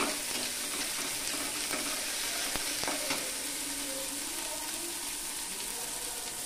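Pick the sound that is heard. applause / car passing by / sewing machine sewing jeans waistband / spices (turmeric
spices (turmeric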